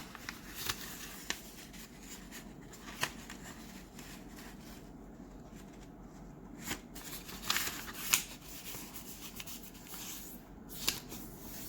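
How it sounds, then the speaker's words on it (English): Origami paper being creased into a triangle, close dry rustling and rubbing of sheet paper with scattered soft crinkles and sharper creasing snaps, steady and quiet with no talk. "we're going to fold it into a triangle."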